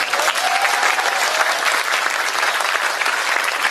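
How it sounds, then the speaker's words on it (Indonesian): An audience at a religious lecture claps steadily throughout, loud and dense, with no pause. "Untung tepuk tangan."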